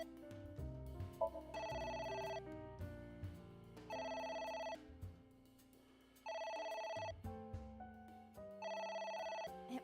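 A telephone rings in the video game AI: The Somnium Files, four loud bursts of a bright electronic bell pattern separated by short pauses, with game music and effects underneath.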